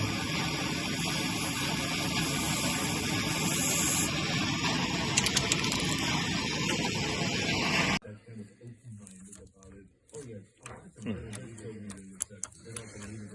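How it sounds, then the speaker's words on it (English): A steady, dense hiss of aerosol spray onto a heated nipple on a Chrysler Alpine runs for several seconds, then stops abruptly, leaving quieter clicks and faint handling noises. "Spray the actual nipple to cool it down."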